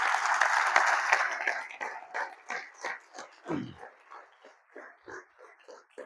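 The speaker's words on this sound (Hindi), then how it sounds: "तो ट्रेनिंग शुरू करना तो एक बार जोरदार तालियां होनी चाहिए" Audience applause at a training session, a loud burst of clapping for the first two seconds that thins into scattered, rhythmic claps and fades, with a brief low thump partway through.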